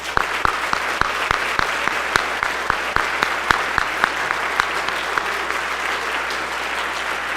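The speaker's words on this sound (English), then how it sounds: "Please give these students a round of applause for their outstanding work." A concert audience applauds students at a high school band concert: dense, continuous clapping with distinct sharp individual claps standing out, fairly close and loud, with no speech over it.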